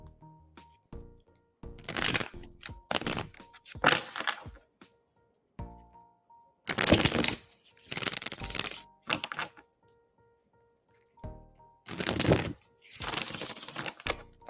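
Tarot cards shuffled by hand in repeated bursts of crisp riffling and slapping, each burst a second or two long and separated by short pauses, close and fairly loud with no talking.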